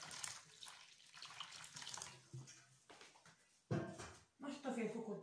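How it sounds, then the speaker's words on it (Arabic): Warm water runs and splashes into a basin meant for holding a pot of homemade bread dough while it rises, with someone talking over the steady pour. "نجيب واحد البانيو نديرو فيه الماء، الماء يكون سخون"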